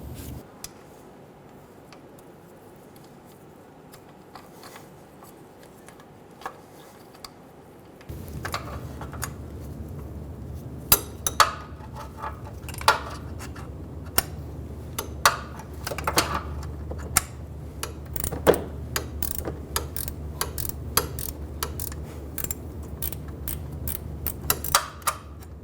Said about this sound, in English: Install the bolt and the washer onto the pulley, and install the pulley onto the tensioner. Get the bolt started by hand.